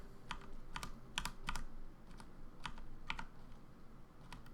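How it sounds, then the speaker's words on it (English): Computer keyboard keys tapped one at a time while playing the dungeon crawler Legend of Grimrock, a sparse, uneven series of light clicks over a low background hum, close and fairly quiet. "You probably hear me tapping the keys one at a time."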